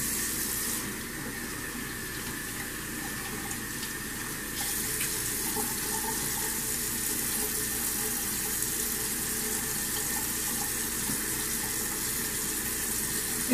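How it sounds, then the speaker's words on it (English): Lukewarm water runs steadily from a tap for rinsing a face with a washcloth, a constant close hiss with no talking. "I'm going to take lukewarm water and just rinse that off of my face."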